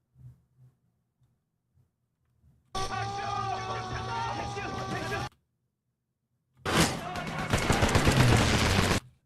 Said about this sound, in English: A strafing run.